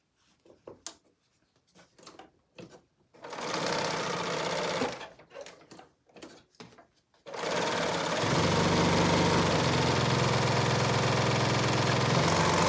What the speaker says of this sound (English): you can use a zigzag stitch on your sewing machine